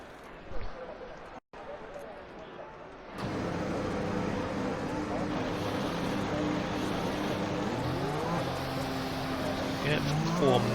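Cars in F1 2021 run a formation lap at the Hungary circuit, a steady droning engine whine that rises after a quiet start and carries under ongoing commentary.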